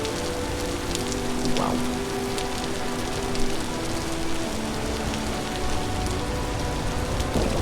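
Steady rain pours down in the survival game Vintage Story, a dense even hiss of drops on surfaces that fills the whole stretch, with a brief exclaimed word over it.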